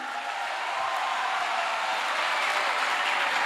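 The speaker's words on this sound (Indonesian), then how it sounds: "Kita beri tepuk tangan yang sangat meriah." Audience of students at an Islamic boarding school forum applauding a question: sustained, even clapping from many hands throughout, with no talk over it.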